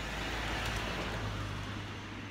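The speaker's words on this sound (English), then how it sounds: "another car passed by." A car passes along a road through a quiet forest, a steady broadband rush with a low engine hum that swells early and then slowly fades.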